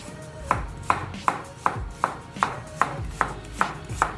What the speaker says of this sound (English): we're gonna go ahead and cut some onion up as well.